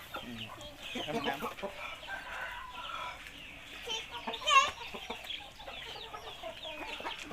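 Chickens clucking and squawking as food is tossed to them at evening feeding, soft scattered clucks with a few sharper calls, with quiet human voices in the background.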